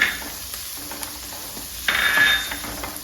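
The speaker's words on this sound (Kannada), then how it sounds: "ಅದಕ್ಕೆ ಹೆಚ್ಚಿದ ಎಲ್ಲ ತರಕಾರಿಗಳನ್ನ ಒಂದೊಂದಾಗಿ ಹಾಕೋಣ ಕ್ಯಾರೆಟು ಹುರುಳಿಕಾಯಿ ಹಾಗೆ ದಪ್ಪ ಮೆಣಸಿನ್ಕಾಯಿ" Chopped carrot, beans and capsicum frying in a pan as they are stirred, a soft steady sizzle with a louder burst of spatter partway through and light scraping of the spoon.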